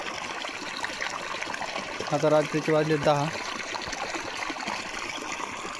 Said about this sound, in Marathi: आता पाणी भरायचं काम चालू आहे मेथीला.